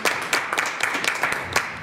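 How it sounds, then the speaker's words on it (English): Brief, scattered round of applause from a panel-event audience for a newly arrived panelist, with sparse individual claps rather than a full ovation. "Can you guys give her a round of applause?"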